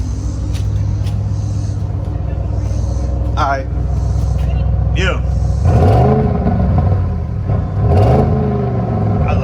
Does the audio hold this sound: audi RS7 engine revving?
yes